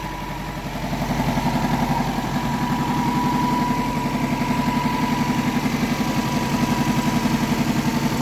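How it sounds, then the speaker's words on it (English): A car engine idles loudly and steadily close by as the radiator fan switches on early in the sound, adding a broad whooshing layer that holds to the end; no one speaks. "The fan just kicked in."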